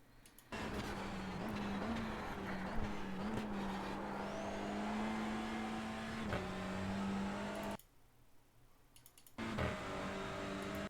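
TCR touring race cars brake hard into a corner at Mount Panorama, Bathurst, their engines droning loudly with shifting pitch, dipping into a quieter gap before roaring back.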